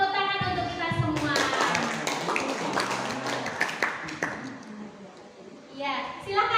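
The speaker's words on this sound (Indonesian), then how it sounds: "Tepuk tangan untuk kita semua." A group claps together for several seconds during a teacher training session, with voices talking before and after the burst of clapping.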